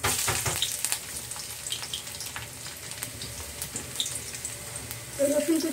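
Chopped garlic hits hot oil in a pan while cooking fish, a continuous watery sizzle and crackle, moderately loud and close, with brief scraping toward the end.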